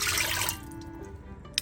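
Two cups of water pour for a pickling syrup for watermelon rind, a bright splashing stream for about half a second that cuts off into quiet dripping, with a small clink near the end.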